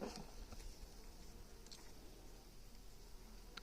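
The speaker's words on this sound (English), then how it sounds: "There's a lot of bees in there." Bees droning steadily inside an open beehive during a feeding check, a close, continuous insect hum with occasional louder passes near the microphone.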